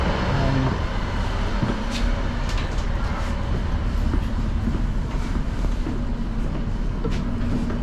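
A Northern class 156 diesel train runs steadily from onboard, a continuous rolling rumble with faint rail clatter and occasional clicks, no voices.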